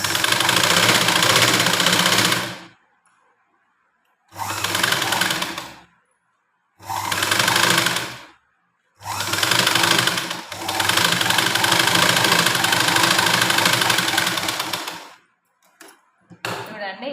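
A sewing machine runs in several loud, steady bursts as it stitches a princess-cut blouse, with brief pauses between runs and a few short mechanical clicks at the end.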